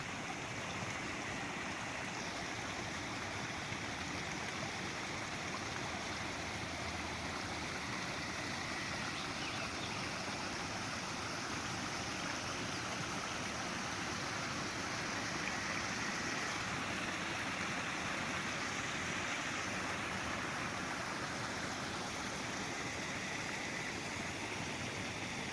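Rainwater runoff after heavy rain rushes along the ground like a little river, a steady, dense, unbroken flowing roar, close and constant throughout with no talking.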